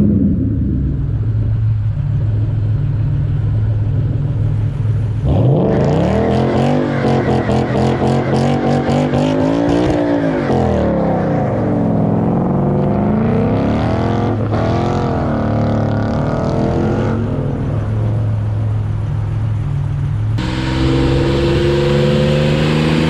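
A car engine idles with a deep rumble, then revs hard through several long climbing and falling pulls, loud and close, before settling back near the end.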